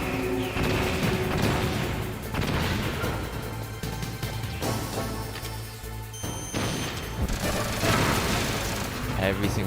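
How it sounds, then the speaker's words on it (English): Machine-gun fire from the Metal Gear Solid video game, with dense, loud bursts of rapid shots that run almost continuously and overlap with heavier crashing impacts. "Keeps getting me with the machine guns."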